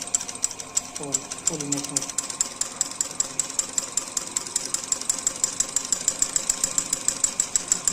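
Sewing machine stitching a designer blouse, a steady rapid needle chatter running throughout at close range, with someone speaking briefly over it.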